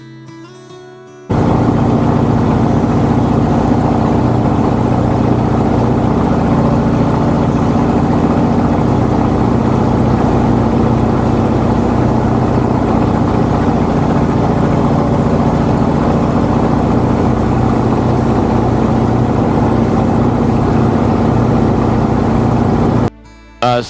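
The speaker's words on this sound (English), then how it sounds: "Started the engine and everything seemed fine." A small aircraft engine starts suddenly and runs at a steady, loud droning idle for about twenty seconds, then cuts off. It sounds close, and no one speaks.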